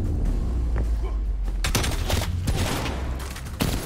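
Rapid bursts of gunfire in a Call of Duty: Cold War multiplayer match, dense loud shots and booms running through most of the stretch with brief lulls, over steady game background noise.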